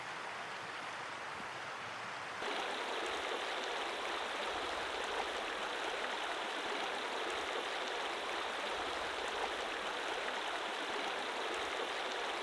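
A creek runs through an ancient limestone gorge in remote Australian alpine wilderness, its steady broadband rush starting abruptly after a quiet moment and continuing loud and unbroken, with no voices.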